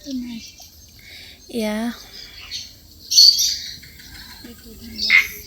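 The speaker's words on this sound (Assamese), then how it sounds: "ইয়াত চৰাই আছে বেছিভাগ।" Several separate bird calls, squawks and chirps ring out one after another, some fairly loud and close, with quiet gaps between them.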